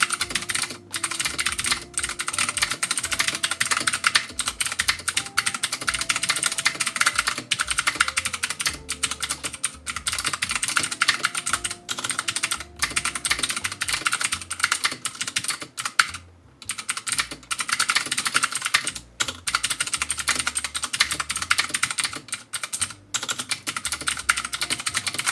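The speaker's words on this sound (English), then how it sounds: "The switches have a nice crisp clack to them, further enhanced by the Mecha Mini's metal body, which gives them a satisfying clank" Continuous fast typing on a Ducky Mecha Mini keyboard fitted with Cherry MX Blue switches and a metal body, producing dense, crisp clicky clacks in an unbroken stream of keystrokes, close and fairly loud, with no talking.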